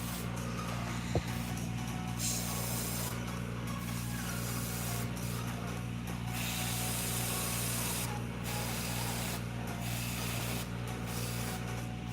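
An airbrush hisses steadily while spraying paint onto large fishing baits, the constant airy spray running with short pauses under a low background hum.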